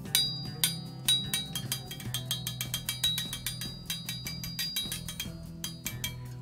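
An Old Hickory 410 beet knife, also sold as a corn knife, struck repeatedly so its blade rings out in bright metallic tones, a steady series of clinks with sustained resonant notes humming underneath.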